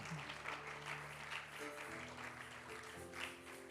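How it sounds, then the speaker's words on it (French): A church congregation at a women's seminary day applauds and cheers for the Lord, a steady wash of crowd clapping with sustained voices and music-like tones underneath, continuous throughout. "Est-ce que tu peux acclamer le Seigneur pour toi-même?"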